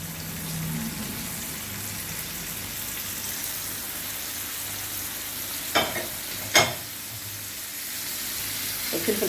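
Tomatoes and colored peppers sizzling steadily in a pan, a soft continuous frying hiss with a couple of brief sharp crackles near the end.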